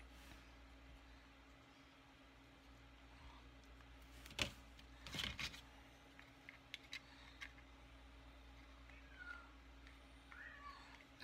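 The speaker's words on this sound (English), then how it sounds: "The cat's talking." A cat meows indoors, a few brief calls around the middle amid faint room hum and small tapping noises, quiet and somewhat distant.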